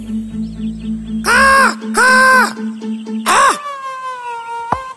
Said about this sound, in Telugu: పొంగిపోయిన కాకి రాజవ్వాలన్న కోరికతో పాడడం మొదలుపెట్టింది